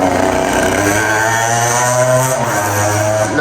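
A motorcycle engine passes close by on a street near the Magdalena River in Ambalema, Tolima, Colombia, its loud steady drone rising and falling in pitch throughout, with no speech.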